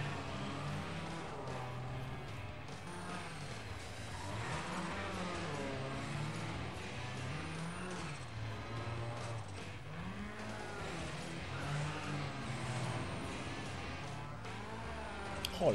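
A rally car's engine in the Colin McRae Dirt video game rises and falls through repeated revs and gear changes, a continuous droning roar with reverberant tunnel coloring and no speech.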